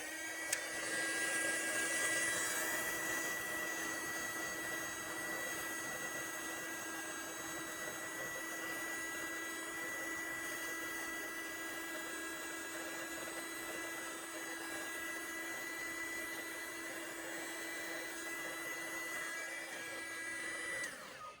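A heat gun blows steadily over epoxy resin, a constant close whirring hiss with a faint motor whine that holds unchanged for about twenty seconds with no talking.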